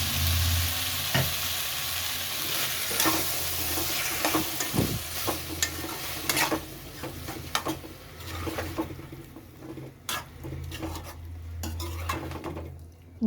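Ground masala of onion and coconut cooks in a pot for sambar, a steady sizzle broken by repeated metal clinks and scrapes of a ladle stirring against the pan, close and busy.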